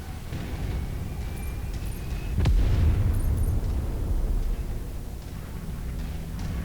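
A destroyed mech blows up in the MechWarrior 5 Mercenaries video game, a sudden low boom that rumbles on for a couple of seconds over a dense layer of game noise.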